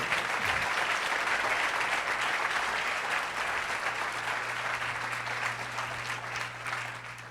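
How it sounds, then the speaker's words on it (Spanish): Sustained applause from a church congregation at a Sunday service, a dense steady roar of clapping that fills the space for several seconds and fades slightly toward the end. "¿Cuántos le dan un aplauso a nuestro rey, por favor?"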